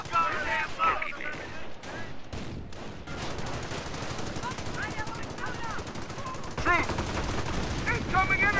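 Dense gunfire and machine-gun bursts in a Company of Heroes coop battle on the Stonewall map, loud and continuous throughout, with shouted voices in the mix.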